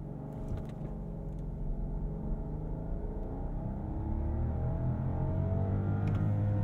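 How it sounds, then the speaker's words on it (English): A 2023 Rolls-Royce Phantom pulls away hard from a standstill after a brake boost, a smooth, steady engine rumble and whir building gradually in pitch and volume, heard from inside the cabin without talk. "I'm just going to do a bit of a brake boost as we get off the line."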